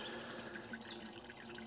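Water gushes steadily from the overflow pipe of a forebay tank, a continuous close-up pour and trickle with no one talking.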